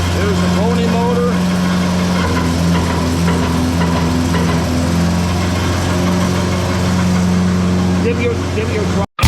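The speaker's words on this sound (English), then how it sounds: "And there's the pony motor." The small pony starting engine on a pulling tractor runs steadily at idle, a loud, close, continuous droning chug that holds for about nine seconds before cutting off abruptly.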